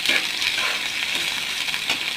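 Onion, ginger, garlic and cumin fry in hot oil with a steady close sizzle, broken by light scraping and stirring sounds, no voices.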